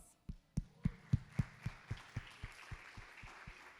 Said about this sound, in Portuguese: Gente, palmas.